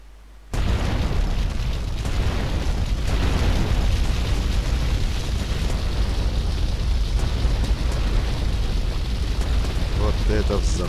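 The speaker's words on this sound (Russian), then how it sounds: "Вот это взрыв." A loud, booming explosion in the video game GTA Vice City The Definitive Edition erupts suddenly and keeps roaring as a dense, sustained rumble, with faint voices underneath.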